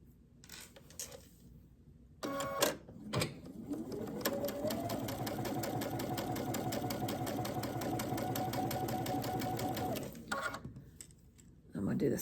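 A sewing machine stitches quilt block fabric in one long steady run of rapid mechanical pulses, close and loud, with brief handling clicks and rustles before and after the stitching.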